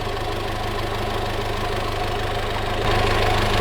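A van's engine idles steadily while its coolant heats a hot water heater loop, a continuous low rumble with a faint rhythmic knock that thickens slightly near the end, close and alone without talk.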